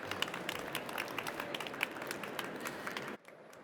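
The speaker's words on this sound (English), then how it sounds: "Big round of applause." Audience clapping steadily for about three seconds to welcome a finalist at a live sustainable-business pitch event, a dense, even patter of many hands that cuts off abruptly into near silence.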